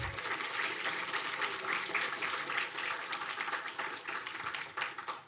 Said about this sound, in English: So one last applause.